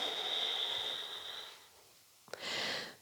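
Slow breathing during yoga practice: a long, soft, airy exhale fades out, a short pause follows, then a sharp intake of breath and a smooth breath that builds again, close and alone.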